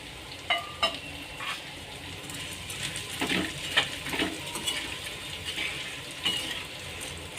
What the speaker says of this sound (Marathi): यात आपण हे परोडे टाकणार आहोत छान तेलामध्ये फ्राय करून घ्यायचे आहेत